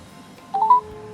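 Dialing tone from a phone call placed over speakerphone while an Apple Watch with cellular connects, a short rising electronic tone of about a quarter second that then holds as a steady faint hum, alone with no talk.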